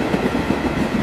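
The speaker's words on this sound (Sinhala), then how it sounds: "කෝච්චිය එනවා" A train rolls along a railway track, a steady loud rumble with faint rhythmic clatter filling the whole moment, no voices present.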